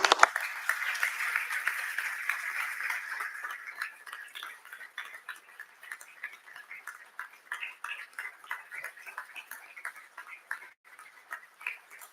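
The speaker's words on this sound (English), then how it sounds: "So I just want to give this group of students a round of applause." Applause for a group of students at a county board of commissioners meeting, a short burst of clapping that thins out into scattered, separate claps and dies away at low level.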